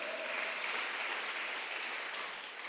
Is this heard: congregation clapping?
yes